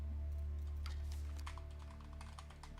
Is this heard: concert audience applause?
no